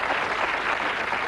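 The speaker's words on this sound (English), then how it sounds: "give them a round of applause, our contestants tonight." A TV game show studio audience applauds contestants in a 1986 broadcast, a dense, even burst of clapping filling the whole brief moment.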